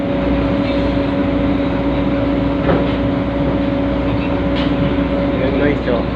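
A moving train rumbles steadily from inside a carriage, a loud, constant rolling drone with steady hum, faint clanks and brief squeals, while someone talks over it.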